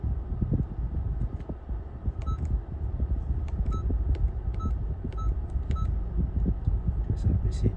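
Honda CR-V Prestige 2017 keyless access setup chiming a series of short, evenly spaced electronic beeps over a steady cabin hum, with a person talking throughout.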